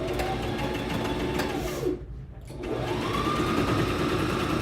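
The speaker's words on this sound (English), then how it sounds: "So I'm just sewing straight down the side seam." A sewing machine stitches straight down the side seam of a garment, with a steady mechanical whir that pauses briefly, then resumes at an even, close, continuous pace.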